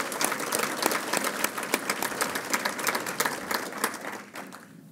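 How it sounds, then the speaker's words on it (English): Sustained audience applause fills a county business luncheon, dense steady clapping from a full room with no speech over it, tapering slightly at the end. "So please, let's give her a round of applause for that."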